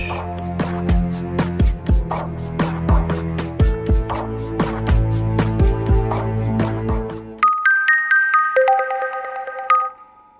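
A phone ringtone plays loudly and alone, a rising, chiming electronic melody repeating for several seconds, then switching to a brighter beeping tune near the end.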